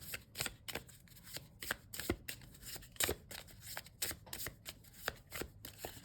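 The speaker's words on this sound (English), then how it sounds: "It is quite thick to riffle, but it's just a dream to shuffle anyway." A thick runic oracle card deck being shuffled by hand, a run of crisp, close papery riffles and snaps in an uneven rhythm, with quiet pauses between bursts and no talk.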